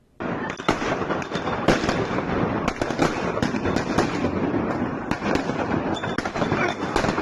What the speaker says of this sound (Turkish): Polisle çatışan protestocular havai fişek attı.